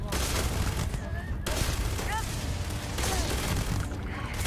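Rapid bursts from a Mag Shear weapon in the game Starfield ring out loudly and steadily, dense gunfire filling the stretch with brief gaps, while someone talks over it.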